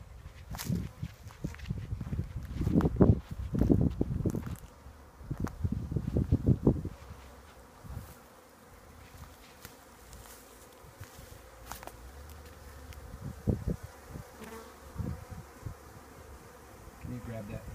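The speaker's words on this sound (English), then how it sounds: "Shaking in some bees." Honey bees shaken into a new hive give a steady insect buzz, with louder bursts of thumping and rustling early on and quieter handling noises later.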